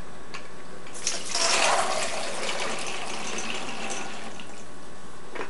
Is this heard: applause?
no